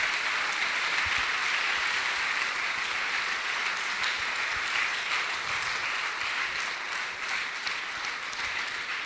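A church congregation claps continuously and evenly, a full wash of applause without pauses or voices.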